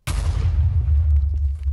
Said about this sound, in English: I just pressed V, and there was an explosion.